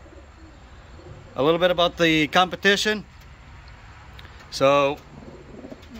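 Racing pigeons, young birds left behind from a 150-mile race, coo softly in the loft while someone speaks close by.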